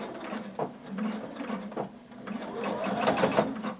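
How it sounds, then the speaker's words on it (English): A sewing machine runs around the edge of a hooded tunic, a soft, quiet mechanical chatter with uneven, stop-and-go rhythm. "we're going to start sewing all the way around"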